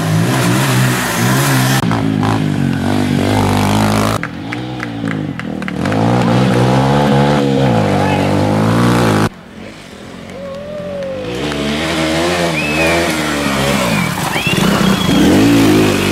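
Motorcycles and Gypsy rally cars at an auto cross rally near Manali, engines revving loudly and close with rising and falling pitch, several separate bursts of acceleration, crowd voices underneath.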